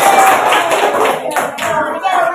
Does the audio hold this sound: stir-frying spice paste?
no